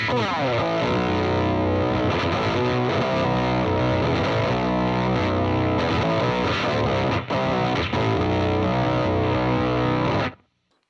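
Loud, heavily distorted electric guitar through a fuzz pedal with octave-up engaged, giving a fuzzy, doubled upper tone, strummed chords ringing steadily for about ten seconds before cutting off.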